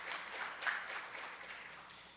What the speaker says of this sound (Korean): 로이테오 전무님한테 다시 한번 큰 박수 한번 부탁드리겠습니다